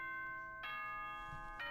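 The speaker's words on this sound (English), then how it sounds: "Ding dong, ding dong!" Two bright bell-like chimes, spaced about a second apart, ring from a video game announcement system, each tone clear with sustained harmonics over a quiet background hum.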